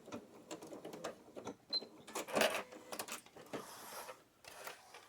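A sewing machine back stitching across a thick seam at the bottom of a water bottle sling bag makes a rapid, rhythmic run of close mechanical stitching bursts that stops and starts, with no voices.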